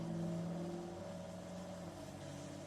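Loud truck engine from Farming Simulator 22, a steady low idle-to-rev drone with sustained harmonic tones, slightly louder at the start and then holding constant throughout.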